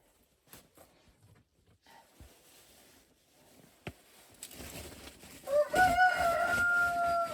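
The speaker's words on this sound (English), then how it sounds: "And one nosy chicken is helping me, I see." A farmyard chicken making clucking and crowing-type calls close by during soaked grain preparation, with scattered handling noises early and a louder burst of tonal fowl calls toward the end.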